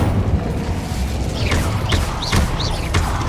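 Incendio fire spell cast during combat in Hogwarts Legacy, a run of dense rumbling booms and thuds with swishing bursts repeating roughly every half second over constant low battle noise.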